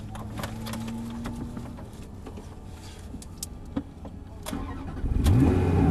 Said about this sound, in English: start the engine for me then